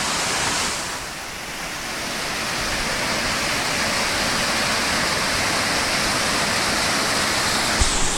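A forest waterfall on a high hill roars in a loud, steady broadband rush, close and continuous with no voices above it.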